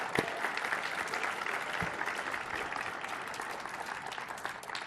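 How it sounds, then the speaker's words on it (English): Faint, steady applause from a crowd at a stadium dedication ceremony for United Airlines Field at the Coliseum, a distant even patter of clapping with a couple of soft thumps early on. "Please give them a round of applause"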